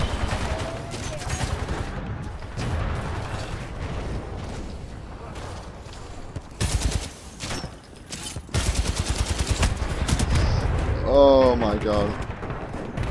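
Gunfire in Titanfall 2 rattles in rapid bursts alongside explosive booms and mechanical effects, loud and near, with a player talking over parts of the action.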